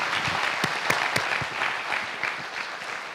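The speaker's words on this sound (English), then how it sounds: "please give yourselves a round of applause" A large crowd at a school district convocation applauds, a continuous wash of clapping from many hands, loud and sustained with a few sharper claps standing out near the front.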